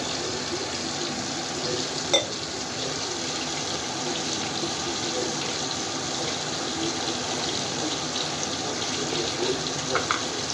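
A steady stream of about half a litre of water pours into a pot of fish curry without a break, with a faint clink of metal now and then.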